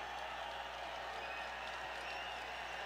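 Crowd noise in a basketball arena at an SIU versus Missouri State game, a distant, steady roar of cheering and clapping that stays even throughout, fairly faint under the broadcast.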